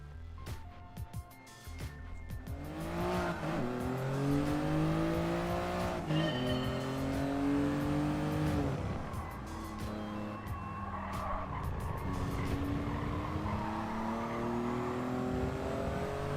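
A race car in Gran Turismo Sport on the Sardegna Windmills track brakes hard and skids, tires squealing in long wavering streaks over a revving engine that drops and climbs again, fairly quiet overall.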